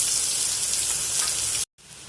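Cumin seeds and onion frying in hot oil, a loud, continuous hissing sizzle that cuts off abruptly to silence near the end before resuming.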